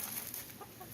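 Chickens in a newly enclosed winter coop area, clucking softly at a distance under steady wind noise and background hiss.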